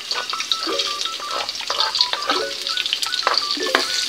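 Tofu frying in oil until golden brown, a close bubbling sizzle with lively popping crackles and spatters throughout, no voices.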